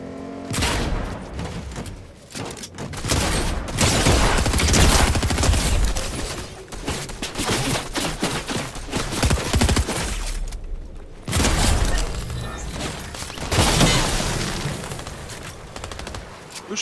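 Gunfire in a Fortnite match: loud, dense bursts of automatic weapons fire in rapid fusillades with brief pauses, punctuated by heavier booms and impacts, filling nearly the entire stretch.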